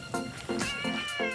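A pet cat living in a Ford Transit camper van meows four times in a row, close and clear, each call drawn out and slightly plaintive.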